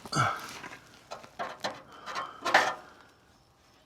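Screwdriver working up in the steering of a 79-year-old vehicle to adjust a nut, giving several close, irregular metallic scrapes and clicks spread across a few seconds with no talking.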